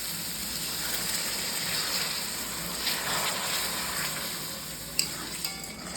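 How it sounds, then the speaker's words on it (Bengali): Sweetened water poured into a pan of frying prawn curry with yogurt, a steady close sizzle and gush running throughout with a couple of brief clinks near the end. "মিষ্টি দেওয়া জলটা এবার আমি দিয়ে দিই।"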